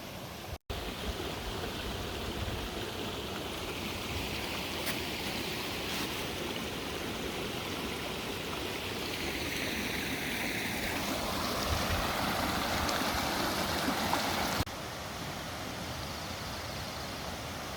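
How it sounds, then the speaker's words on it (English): At Gentian Pond on the Appalachian Trail, water runs and splashes continuously in a steady, rushing wash while water is filtered and legs are rinsed, with a faint, brighter trickle partway through. "Time to filter water and wash my legs."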